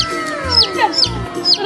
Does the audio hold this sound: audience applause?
no